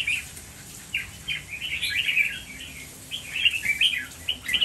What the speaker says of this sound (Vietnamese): Em thấy được cái nét con chim này nó như thế nào.